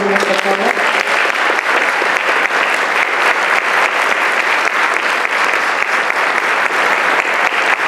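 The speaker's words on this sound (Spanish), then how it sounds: "Un fuerte aplauso para estos alumnos, por favor." An audience at a school ceremony gives students loud, sustained applause, dense clapping that stays steady throughout.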